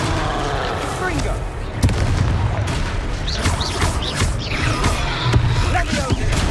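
Confringo fire-blast spell explosions in Hogwarts Legacy, a rapid volley of sharp booms and cracks going off one after another, loud and close, with voices calling out amid the blasts.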